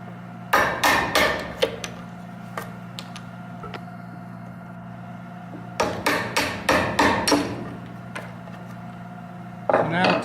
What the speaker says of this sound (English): these should just break off if we just drive the chisel